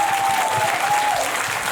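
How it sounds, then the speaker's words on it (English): Wedding guests applaud the newly married couple in a dense, steady burst of clapping that fills the room from start to finish, with a faint sustained tone running beneath it. "give them both a round of applause"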